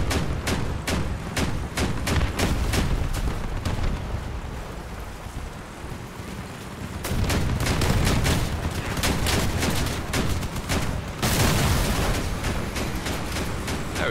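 Shotgun and turret fire from armoured combat vehicles in Crossout roars almost nonstop in dense bursts of blasts and booms, with a loud mechanical rumble underneath and no talking.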